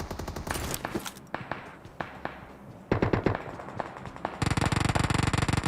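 Automatic gunfire in the PUBG Mobile battle game: sharp rapid bursts and single shots crack out in quick, uneven clusters, ending in a sustained, dense volley.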